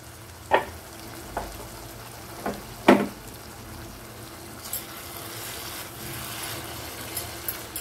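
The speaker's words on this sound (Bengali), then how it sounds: "সামান্য একটু গরম জল দিলাম, খুবই সামান্য, মশলাটা ভালো করে কষানোর জন্য।" Spice masala sautés with a splash of hot water, a low continuous sizzle under scattered scraping stirs and a few sharp spatula knocks, close by and moderately quiet.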